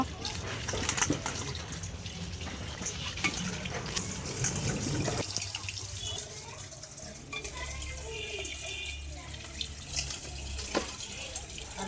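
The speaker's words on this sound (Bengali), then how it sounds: "তো এখন ডিম আর আলুগুলো একটু ধুয়ে পরিষ্কার করে নিই।" Tap water runs steadily into a sink while eggs and potatoes are rinsed, a continuous broad rushing hiss with occasional light knocks and shifts in the flow.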